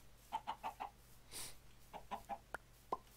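Blocky Minecraft chickens cluck in two bursts of short, rhythmic clucks, with a soft whoosh between them and a few sharper clucks at the end, moderately close in a quiet scene.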